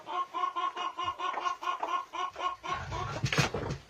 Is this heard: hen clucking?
yes